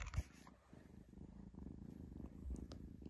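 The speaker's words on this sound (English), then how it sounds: "Can you hear that purring?" Soft, rhythmic kitten purring rumbles close by, quiet and steady, with a couple of faint bumps in the background.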